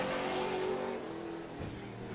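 A race car on a qualifying lap at Meridian Speedway hums by at some distance, its engine a steady droning tone that dips slightly as it moves along the track, with no talking.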